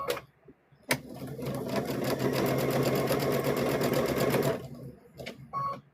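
Close and loud, a sewing machine stitches fabric for a stuffed bear in one continuous, rapid run of needle strokes lasting several seconds, with short clicks and handling noise at the start and end.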